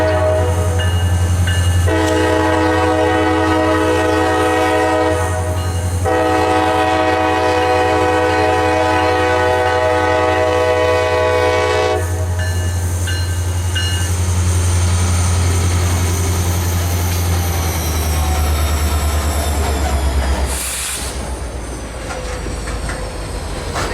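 A freight train with three empty cars on a siding track sounds loud and steady throughout, with a sustained horn blast that starts and stops twice, rumbling engine, rolling wheel clatter and a sharp bang near the end.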